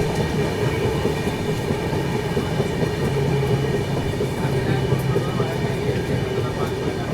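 Duronto Express train running at speed, with a steady loud rumble and rattle of rolling carriages and wheels on rails, heard from inside the coach throughout with no pauses.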